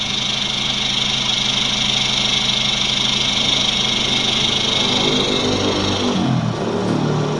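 A car engine idles steadily with its Valvetronic exhaust valve fully closed, a continuous, even hum heard alone at close range without talk.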